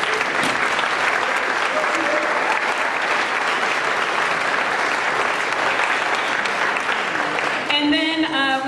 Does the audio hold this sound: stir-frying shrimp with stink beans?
no